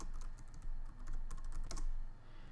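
A password is keyed in on a computer keyboard: a quick, close run of clicky keystrokes in irregular bursts over a couple of seconds, with no voices.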